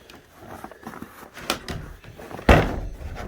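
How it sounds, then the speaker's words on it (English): A stuck wooden outhouse door at a winter campsite gets yanked and forced, with soft scraping and rattling building to one loud sharp thunk as it gives way, followed by a brief rustle. "Okay, well, the door's a little stuck."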